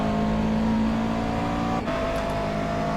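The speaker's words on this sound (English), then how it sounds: "This car has such a flat sound, like it doesn't change pitch very much" Race car engine in the iRacing simulator: a steady, flat droning hum that holds an almost constant pitch, with a brief dip near the end, heard alone.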